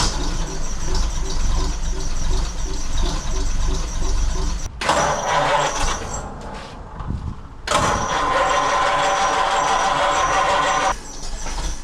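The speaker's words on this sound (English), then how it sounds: "Turn the ignition on. Crank it over. See what happens." The engine of a 1933 three-window coupe is cranked over, a steady churning drone that gives way to uneven, sputtering bursts with brief drops in between, heard up close.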